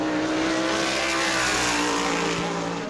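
Amy Catalano's race car comes off the fourth corner during qualifying at New Smyrna, a loud sustained engine roar drawing near and building, then tapering slightly at the end.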